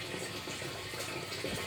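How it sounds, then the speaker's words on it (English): A water pump driven from a reverse-charged lead-acid battery setup pushes water around in a continuous gushing, splashing flow, steady and fairly quiet, with no talking. "here's the pump, delivering the water, pumping the water around"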